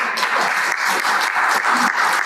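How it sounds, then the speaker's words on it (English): Audience applause at Equip Expo, a trade show event: steady, dense clapping from a crowd, loud and continuous throughout without talk. "please clap for them"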